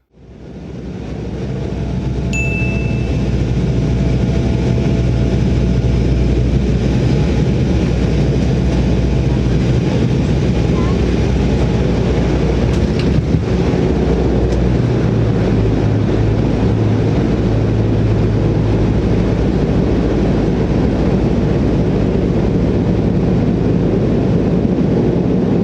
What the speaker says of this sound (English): make a landing on runway 23, the longest runway in Toronto Pearson International Airport